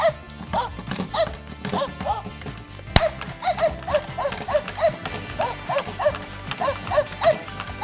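A sound-activated toy dog gives a steady run of short yips and barks, evenly spaced with clicking in between, one sharp knock partway through.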